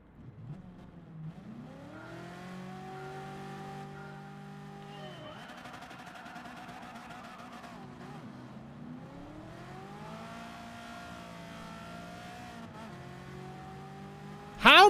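A Honda Civic engine revving in Gran Turismo 7, rising and falling through several gears in smooth sweeps, moderately loud and steady, ending with a sudden loud burst.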